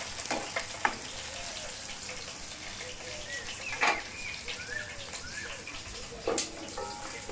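Diced tomatoes and whole spices for chicken biryani frying in a pan, a soft continuous sizzle with occasional utensil taps and faint background chirps, moderately quiet with no talk.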